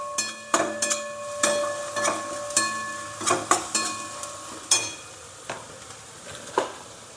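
Coriander powder sautéing in hot oil for a hotel-style dal tadka, with a soft continuous sizzle broken by about a dozen sharp metallic spoon scrapes and taps against the pan at an irregular pace.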